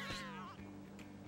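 A cat in the No More Heroes 2 video game gives a clear, close meow with a rising-then-falling whine, followed by a softer short chirp.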